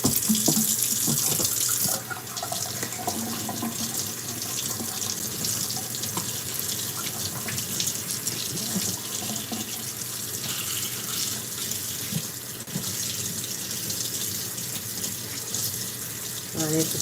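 A kitchen sink tap running in a steady, loud, continuous stream for the whole stretch, close by, with faint household sounds underneath.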